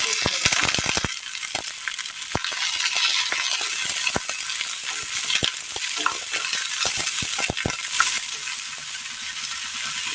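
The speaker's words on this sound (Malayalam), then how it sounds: "ഒന്ന് വാട്ടിയെടുക്കണം. ഇതിലേക്ക് പച്ചപ്പയർ ഇട്ട് കൊടുക്കാം." Green beans sautéing in a pan for a curry, a steady bright sizzle with frequent sharp scraping clicks of a spoon against the pan, no talking.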